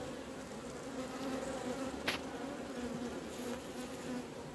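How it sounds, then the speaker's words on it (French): A wasp buzzes steadily close by at a beehive during colony work, a continuous insect drone with a brief louder pass near the middle and no talk over it. "Regardez, il y a une guêpe."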